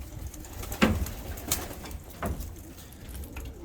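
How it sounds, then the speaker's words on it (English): Restless pigeons cooing inside a trap box, several low throaty coos spread across the moment, close and fairly clear over faint outdoor background. "Some nice looking birds in there, quite a few, and they're getting quite restless."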